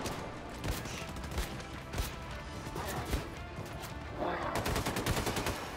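Gunfire in the video game Wolfenstein 2: The New Colossus comes as rapid, sharp repeated shots and bursts over a dense, loud background of in-game action and impacts.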